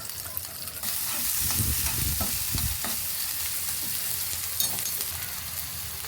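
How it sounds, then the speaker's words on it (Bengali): Onion, garlic and chopped green chili fry in hot mustard oil with a steady, loud sizzle throughout, while a spatula stirs and scrapes the pan in several bursts close up; nobody speaks. "এখন হচ্ছে আমি তেলে ফ্রাই করে ফেলবো।"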